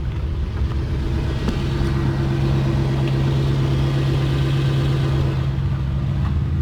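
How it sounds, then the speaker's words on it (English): A 2005 Lexus LS430 engine idles smoothly and quietly, a steady low hum and rumble heard close and unbroken for several seconds, with no one speaking. "Engine's running."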